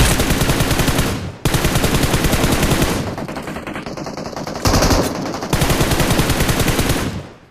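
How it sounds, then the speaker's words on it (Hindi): SCAR-L assault rifle fired in a shooter video game, loud rapid full-auto bursts in several long strings with short gaps, alone without voices. "तभी पीछे सीमेंटर से एक बंदा स्कारएल से फायर करता है"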